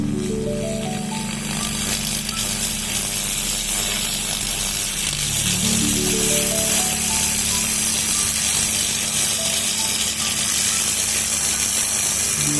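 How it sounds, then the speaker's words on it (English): A small air-cooled laser welding machine runs during cleaning, giving a loud, steady mechanical whine and buzz with rising tonal sweeps, constant throughout with no speech. "Adjust the welding gun height and start cleaning."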